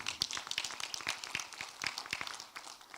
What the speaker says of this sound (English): As they are giving you a round of applause